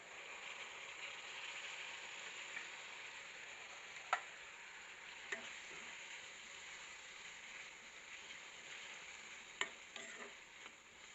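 Onions and tomatoes fry in a pan with a faint, steady sizzle, broken by a few soft clicks and scrapes of stirring.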